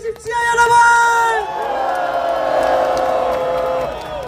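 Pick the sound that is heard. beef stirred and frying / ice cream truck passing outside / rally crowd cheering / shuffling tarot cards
rally crowd cheering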